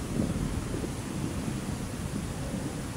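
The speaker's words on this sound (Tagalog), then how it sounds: "magalaw yung ating dagat" Rough sea along Manila Bay, heard as a continuous low rumbling wash of surf mixed with heavy wind buffeting the microphone, steady and fairly loud with no voices.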